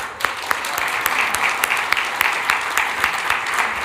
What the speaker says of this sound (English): let's really give them, round of applause